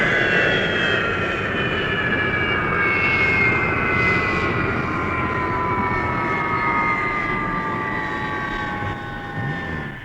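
A loud, steady airplane engine roars nearby for the whole stretch, with high whining tones sliding slowly downward over a broad rumbling wash that eases off slightly at the very end.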